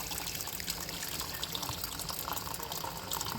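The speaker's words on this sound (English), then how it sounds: "So here now you pour some water on it and you have your kettle." Water pours steadily with a bubbling, splashing rush, close by and continuous for a few seconds.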